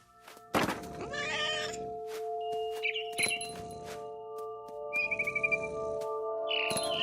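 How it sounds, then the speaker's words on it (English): In the video game What Remains of Edith Finch, a cat gives a short meow amid soft thuds, scattered bird chirps and held musical tones, all fairly quiet with no talking. "I was a cat."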